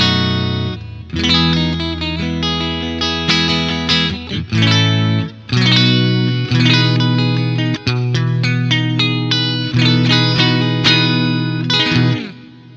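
Electric guitar, a 2022 PRS SE Paul's Guitar in Black Gold Burst with two coil-split humbuckers, played alone through effects with chorus and reverb, picking chords and short riffs loudly with brief pauses.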